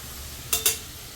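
Spices including coriander, sambar powder, garam masala, kasuri methi and turmeric tossed in a pan, heard as two quick close scraping swishes over a faint background hiss.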